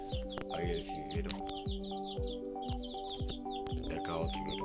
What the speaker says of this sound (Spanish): Está chispeando el jilguerito también.